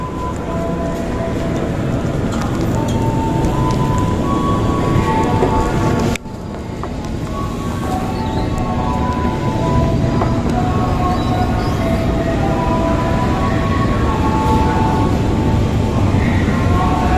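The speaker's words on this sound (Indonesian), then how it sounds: "kereta api yang saya naiki tiba juga di stasiun pemberhentian saya" A dense, constant rumble and hiss of the Tegal Bahari train rolling into Cikarang station, with a brief dip midway and faint squeals of wheels.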